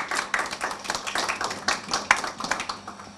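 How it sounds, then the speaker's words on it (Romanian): A small audience at a theatre troupe's seventh anniversary applauds the troupe coordinator with close, distinct hand claps in an uneven rhythm, with no talk over them. "toată să-l aplaudăm pe distinsul coordonator"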